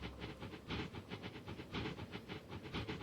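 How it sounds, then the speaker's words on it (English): Train running in the game Transport Fever 2, a rhythmic clickety-clack of wheels over rail joints with a hissing steam-like wash, steady and moderately quiet with no voices. "That's a nice sound this train makes too."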